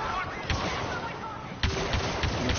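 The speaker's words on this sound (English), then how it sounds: "Ah, throw my grenade." A grenade goes off in a Star Wars video game, heard as a few sharp blasts amid continuous game combat noise, with a loud thump about two-thirds through.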